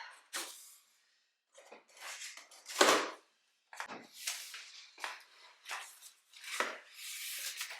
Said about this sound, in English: I'm going to be very careful when opening this box, because last time I sliced open one of my bags.